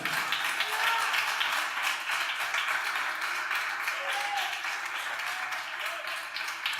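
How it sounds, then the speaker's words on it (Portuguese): A church congregation applauds at a worship service, a steady broadband wash of many hands clapping throughout, moderately loud with some crowd voices mixed in. "Então aplauda Ele."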